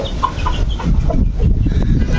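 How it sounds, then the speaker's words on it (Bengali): Tiger-breed chicken chicks on a rooftop garden give short, fairly loud peeping clucks in an irregular run over steady outdoor background noise. "এক জোড়া টাইগার মুরগি বাচ্চা, নতুন মেহমান আমাদের ছাদের"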